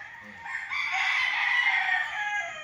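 Game fowl roosters crow at a small training pen on a farm lot, one long loud crow rising and holding near the microphone, with no talk over it.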